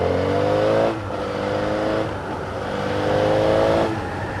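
The engine of a big, slow vehicle called the Chuggernaut runs loudly and close, its low drone rising and falling in pitch with the revs.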